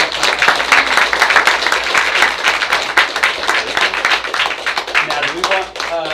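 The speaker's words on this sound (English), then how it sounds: "Y'all can give them a round of applause." Audience applause at a school board meeting, dense steady clapping from a room of people sustained throughout, fairly loud and close, with a few voices faintly mixed in near the end.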